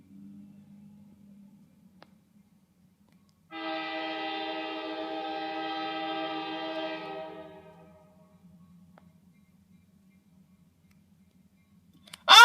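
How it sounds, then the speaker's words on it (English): An Ohio Central train sounds a sustained, moderately loud horn for several seconds as it approaches a railroad crossing, with faint rumble and quiet stretches before and after. "Lights are flashing, train's coming"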